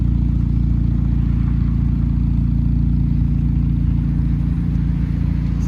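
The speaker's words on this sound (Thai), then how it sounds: "เสียงท่อนุ่มๆครับ" A 2006 Honda City ZX 1.5 V VTEC automatic's exhaust burbles at idle, a deep, steady low rumble held close and loud without a break.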